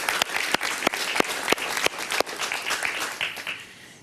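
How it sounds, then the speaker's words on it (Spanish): A studio audience at a Spanish-language talk show breaks into steady applause, loud and dense with a few sharp individual claps standing out, fading away toward the end. "Un aplauso para ella, muy bien."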